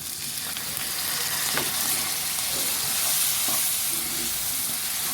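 Red curry paste and coconut milk sizzle in a pan, making a soft, continuous frying hiss with a few faint stirring scrapes and no talk.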